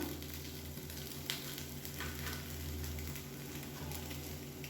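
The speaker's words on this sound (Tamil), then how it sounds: "இந்த சைடு நல்லா கிறிஸ்பியாக வேகட்டும்." Paniyaram batter fries in a pan with a steady, close sizzle and soft crackle, the hiss continuous and fairly loud throughout with no voices.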